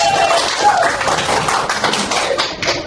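A primary school class claps for a group of pupils, a loud, close burst of many hands clapping together, with children's voices mixed in.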